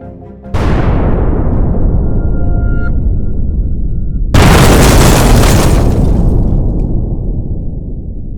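Booming explosion of a plane slamming into a mountainside: a sudden loud blast that rumbles and decays, followed a few seconds later by a second, brighter burst that slowly fades.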